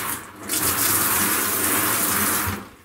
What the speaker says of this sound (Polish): podkładkę troszeczkę zmoczymy sobie